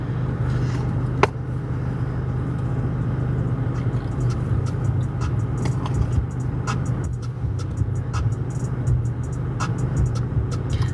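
A car engine idles steadily after being started, a continuous low rumble throughout with faint clicks and small sounds over it.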